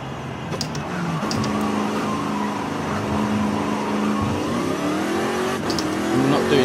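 A car engine in Forza Horizon 5 revs continuously with rising and falling pitch as it accelerates through gears, loud and close, with no speech.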